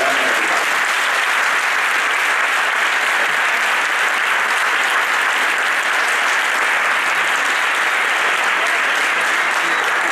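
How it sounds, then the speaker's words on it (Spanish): Steady, dense applause from a large audience at a Journalists' Day event, sustained and even at full strength from start to finish with no voices breaking through. "Le pido un aplauso a todos los presentes para Ana."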